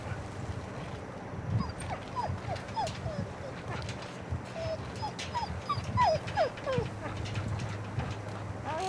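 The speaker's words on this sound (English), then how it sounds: "How do I kill a dog?" In The Walking Dead Telltale video game, a dog whimpers and yips in short, high, scattered cries spread across several seconds, heard over a steady low background rumble.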